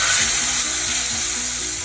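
Loud, steady sizzling of whole brown masoor lentils frying in hot oil, close and continuous, with a faint stirring scrape underneath.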